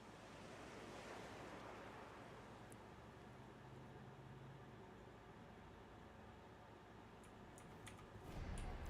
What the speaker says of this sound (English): Hark, the murmuring of waves.